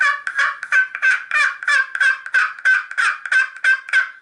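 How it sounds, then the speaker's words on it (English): A slate turkey call works in a steady rhythm of about a dozen sharp, raspy yelps, loud and close with no talking. "But I like to use a slate call."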